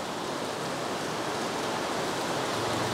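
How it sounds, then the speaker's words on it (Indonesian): Rain falling in Jakarta, a loud, steady wash of dense noise that holds unchanged for three seconds with no voices. "Jakarta lagi hujan."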